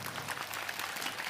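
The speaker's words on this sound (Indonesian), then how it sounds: "Iki lho tepuk tangan buat Bu Lilik." An audience at a religious gathering claps, a brief dense burst of steady applause heard at moderate volume.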